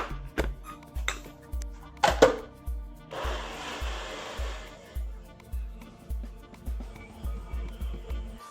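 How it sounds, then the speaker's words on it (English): Blender whirring through cashews and silken tofu for a dairy-free frozen dessert, a close, rhythmic chugging pulse repeating about twice per second, with a brief burst of louder grinding in the middle. "let's go ahead and give this a good blend until it's really, really nice and creamy"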